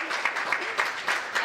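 Audience applause at a student union president candidate debate, a brief burst of steady clapping from a crowd in a hall, moderately loud and continuous with small swells.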